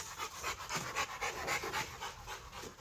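Several dogs panting steadily in a backyard, quick rhythmic breaths close to the microphone with no talking.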